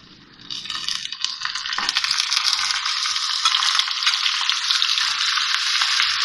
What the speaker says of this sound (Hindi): ये कीमा डाल रही हूँ इसमें।